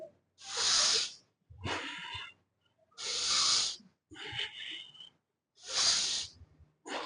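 Heavy exercise breathing during stepping lunges in a home full-body workout: three long, loud hissing exhales alternating with shorter, rougher inhales, steady and close with silent gaps between.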